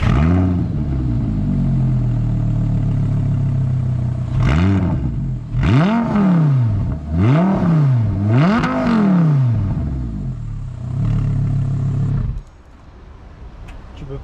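A V10 supercar engine idles with a deep, steady rumble, then snaps through several sharp rev blips in quick succession before settling back. The sound drops off abruptly near the end.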